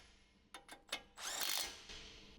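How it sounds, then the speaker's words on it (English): A large electric impact wrench with a 22mm deep socket tightens a tie rod end nut on a 2013 Jeep Wrangler JK: a few short taps, then a loud, sustained hammering burst that trails off quieter, close and without talk. "Use a large 22mm deep socket together with a large electric impact wrench to tighten the"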